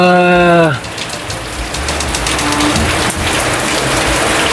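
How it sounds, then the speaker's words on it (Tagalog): Steady heavy rain pours down in Camarines Norte with a dense hiss, following a brief tonal sound at the start. "Walang tigil ang pagbuhos ng ulan."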